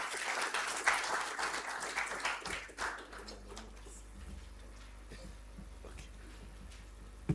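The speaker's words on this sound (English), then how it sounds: "Please clap for Daniel as he joins us." Audience applause welcoming a speaker at an election forum, a dense burst of clapping over the first few seconds that fades into quieter room noise with a low hum.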